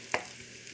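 Food frying in its own rendered fat in a pan gives a faint, steady sizzle over less than a second, with one quick clink or scrape of a utensil near the start.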